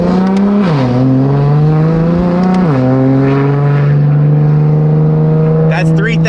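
A tuned BMW M4 with a modified S55 engine and altered manifold revs up loudly nearby. It makes two quick blips to around 3,000 RPM, then holds a steady, droning idle-high note.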